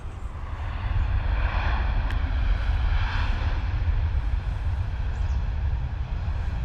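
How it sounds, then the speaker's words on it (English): A Ryanair airliner arriving from Rome at London Stansted Airport gives a steady, broad jet roar that holds at moderate distance throughout, with no voices. "Ryanair coming in from Rome."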